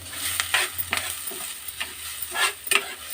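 Ground coconut, ginger and green chilli sizzle and crackle in hot oil while a utensil stirs and scrapes the pan in irregular strokes, close up and without speech.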